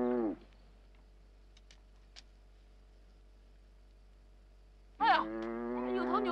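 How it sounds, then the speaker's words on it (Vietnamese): A cow moos loudly on a road, one long low call at the start, then a lull and a second sustained moo from about five seconds to the end. "Có một con bò chặn phía trước"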